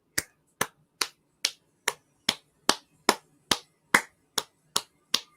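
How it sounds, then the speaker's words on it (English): A golf clap, slow, spaced single hand claps, about thirteen evenly timed, sharp and close, from a fan watching a New York Mets versus Miami Marlins baseball game, with faint background noise between claps. "Golf clap."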